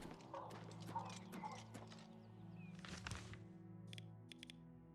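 In the video game Oblivion Remastered, horse hooves clip-clop alongside a brief whinny, faint and mixed with game ambience and a few tonal effects.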